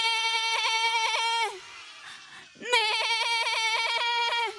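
Two long wavering bleats imitating a sheep, loud and close, separated by a short pause with a quiet breathy gap between them.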